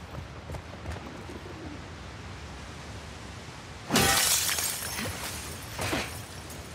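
Glass window shattering in The Last of Us Part II, a sudden loud crash that cuts through a steady ambient bed and fades into scattered debris and bird-like chirps.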